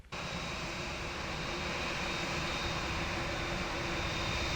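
A Boeing 787 in the Aerofly FS 2022 flight simulator gives off a steady jet engine drone with a faint whine at Heathrow in stormy winds. The sound starts abruptly and holds even and loud throughout.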